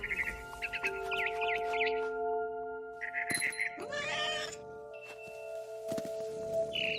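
Repeated cat meows in short rising calls from the video game What Remains of Edith Finch, interspersed with chirping bird-like sounds and tones, fairly quiet and synthetic-sounding.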